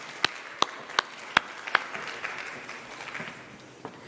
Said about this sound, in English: Mona Golubeck, let's give her a nice round of applause.